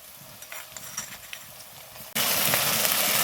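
Onions frying in a pan as ginger-garlic paste goes in, a soft sizzle with faint stirring that jumps abruptly into a loud, steady, broadband hiss of frying once the paste hits the hot oil.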